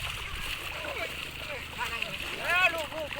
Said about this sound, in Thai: ตีน้ำเลย